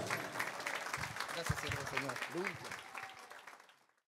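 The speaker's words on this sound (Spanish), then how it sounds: "Recibámoslo entonces con un fuerte aplauso" A church congregation gives an enthusiastic round of applause to welcome a pastor and singer. The dense clapping is mixed with cheering voices and fades out near the end.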